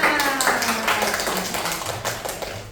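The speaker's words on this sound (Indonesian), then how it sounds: "Tepuk tangan dulu lah untuk diri sendiri." A classroom of schoolchildren clapping for themselves, a brief burst of quick, scattered claps close by, mixed with children's voices and chatter throughout.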